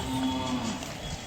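A single drawn-out, low moo from a bull with a steady tonal drone, fairly close, at the Chalisgaon cattle market, with no voices.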